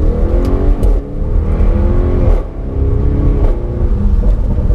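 Audi RS6 Performance fitted with an Akrapovic titanium exhaust, revving in a deep, rumbling burble that rises and falls in several steady pulls, loud and close with no talk.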